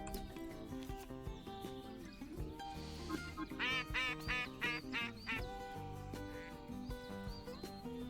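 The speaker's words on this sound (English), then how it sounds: "Use your duck call to start bringing in blue-winged teal" A duck call in a hunting video game is used to lure blue-winged teal. Bursts of rapid quacking calls sit over a steady layered musical and ambient game soundtrack, moderately loud in the middle of the clip.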